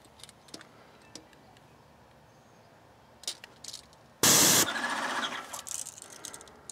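A Titan Control Max 1900 airless paint sprayer fitted with a 619 tip fires a loud, steady burst of hissing spray that holds to the end, after a stretch of near quiet with faint clicks.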